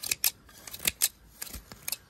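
Freshly sharpened scissors snip repeatedly in quick, crisp strokes, about eight distinct close cuts in an irregular rhythm with no voices.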